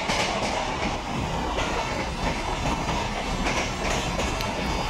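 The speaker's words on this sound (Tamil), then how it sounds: "ஸோ ஆப்போசிட் ட்ராக்ல ட்ரெயின் வந்துட்டு இருக்கு." A train in the MSTS train simulator game rolls past on the opposite track, a steady loud rumble with rhythmic wheel clatter and occasional squeals continuing throughout without speech.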